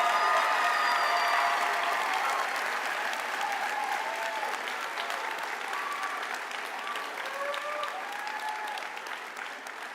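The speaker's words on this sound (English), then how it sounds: "Let's give our graduates another round of applause." Large audience at a community college commencement ceremony applauding the graduates, a broad steady wash of clapping with faint cheers and whistles, slowly tapering over ten seconds.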